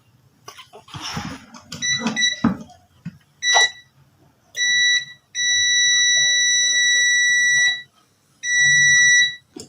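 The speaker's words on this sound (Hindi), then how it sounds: "जैसा कि आप देख सकते हैं हमारी बीप बच चुकी है।" Electronic meter beeps sounding when a Dungs pressure switch triggers: a few loud, steady tonal beeps of varying length, the longest lasting about 2.5 seconds, coming after quieter handling noises and brief murmured talk.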